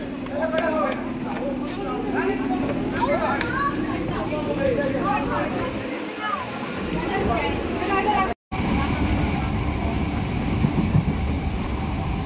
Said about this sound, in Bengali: তো ওই লোকাল ট্রেনে আমরা উঠবো এখন